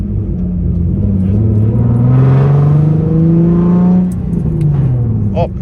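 A Nissan 350Z engine with a slipping, defective clutch revs hard and steadily, its pitch climbing and holding before easing off, loud and close throughout with a faint jingle near the end.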